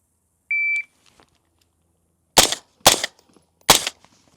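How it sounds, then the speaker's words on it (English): A short electronic beep, then three sharp, evenly spaced shots from a suppressed 10.5-inch ADM AR15 rifle, close and loud against an otherwise silent background. "when I come up to shoot, I'll put it on safety or take it off safety, fire my 3 shots, and then put it back on safety"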